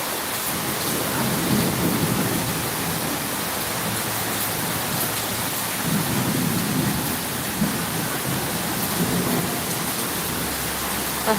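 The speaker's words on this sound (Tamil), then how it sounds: "இடி பயங்கரமாக இடிக்குது" Steady heavy rain pours throughout, with low rumbles of thunder rolling in and out beneath it.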